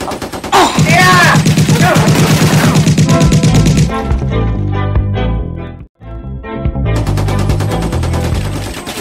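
Rapid gunfire from a radio audio drama crackles in loud automatic bursts, layered with a droning tone and other dense effects. The sound stays full and continuous, breaking only once in a brief dropout.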